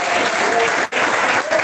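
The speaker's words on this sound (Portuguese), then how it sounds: "Vem bater palmas." A church congregation bursts into loud, dense hand clapping during a Portuguese sermon, a continuous roar of many hands with a brief dip midway, close and strong with no speech over it.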